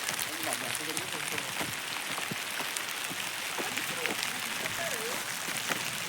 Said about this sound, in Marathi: पाऊस खूपच जोरात पडतोय